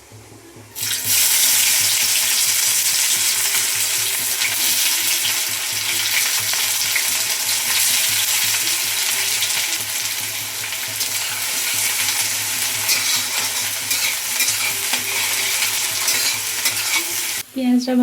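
Chopped onions hit hot oil with whole cumin, dried red chillies and bay leaves for a chicken curry, setting off a loud, continuous sizzle with stirring that runs steadily for a long stretch, with no talking.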